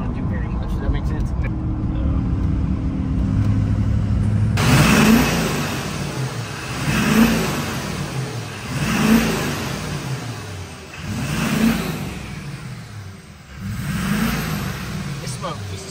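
A Duramax diesel truck accelerates in repeated surges, its engine swelling and fading in a steady rhythm of about four pulls, heard from inside the cab and loud and near.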